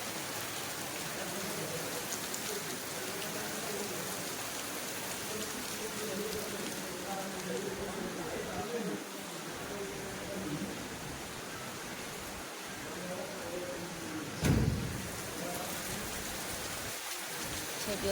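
Heavy rain pours steadily on the day of Rath Yatra, a dense continuous hiss of drops on surfaces with a brief louder splash or knock near the end, and faint voices murmuring underneath.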